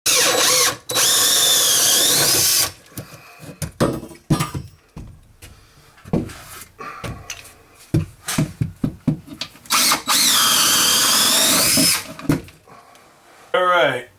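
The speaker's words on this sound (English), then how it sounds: "Just be careful when you're drilling like that." A power drill bores 5/8 inch holes through a wooden ceiling joist during a recessed lighting installation, with several long loud whirring runs separated by clunks, handling noise and someone speaking between bursts.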